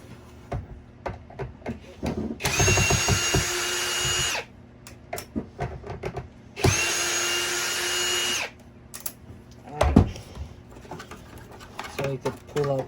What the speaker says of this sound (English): we'll start by removing the 2 screws up top here on the hose